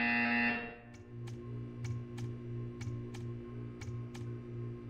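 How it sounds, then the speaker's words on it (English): Portal 2 test-chamber buzzer after a high electronic tone: a steady low hum pulsing in a regular repeating rhythm under faint evenly spaced ticks, moderately quiet and continuous. "You will hear a buzzer."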